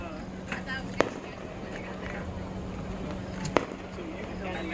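Fireworks explode at a 4th of July show as a few sharp, distant-sounding pops spaced seconds apart, under steady background noise while people talk and cheer.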